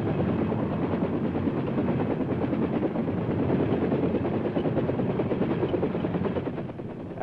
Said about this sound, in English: the chopper is moved to a different part of the field where the rocket pods are armed